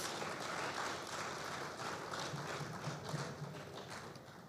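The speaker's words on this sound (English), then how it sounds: "Let's give her another round of applause." An audience at a trade show claps for a young exhibitor, a faint, distant patter of hands that sustains at an even level for several seconds.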